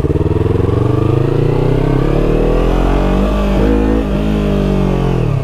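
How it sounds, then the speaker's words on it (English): A Yamaha R3 sport motorcycle engine revs hard during a wheelie attempt, a loud, close, continuous high-RPM whine whose pitch climbs, wavers and dips near the end, with no talk over it. "You have to hold in the clutch for long enough for the RPMs to get high so it can pop it up"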